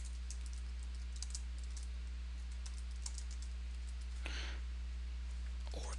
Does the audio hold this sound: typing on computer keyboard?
yes